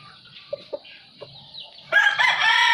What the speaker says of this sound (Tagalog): So ito po yung aking brood cock na pumpkin hatch.